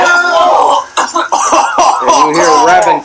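A pro wrestler at a UWE Thunderstruck 2017 wrestling event coughs and clears his throat in a few rough, close bursts, with gaps between them and a noisy arena behind.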